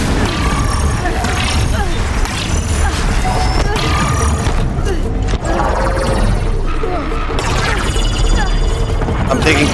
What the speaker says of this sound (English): I'm taking corruption damage, so that's the noise you've been hearing.